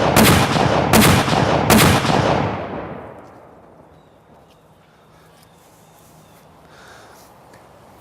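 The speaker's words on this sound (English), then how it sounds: "On my command to fire, fire!" Three loud gunshots ring out about a second apart on a command to fire, each sharp and near with a fading echo, followed by quiet outdoor ambience.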